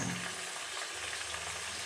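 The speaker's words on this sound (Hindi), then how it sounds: "चिकन को हमने अच्छी तरह से फ्राई करना है।" Chicken pieces frying in a pan over a full flame, producing a dense, even sizzle that holds steady close by with no voices.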